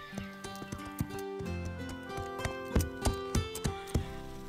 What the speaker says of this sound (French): Zoé monte son nouveau cheval